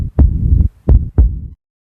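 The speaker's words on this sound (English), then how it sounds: "The heartbeat came again." Heartbeat thumps in a dramatic story setting, two close, deep, booming double beats in a slow rhythm that end in silence.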